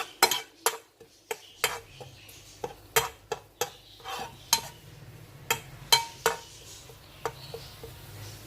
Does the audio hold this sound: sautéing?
yes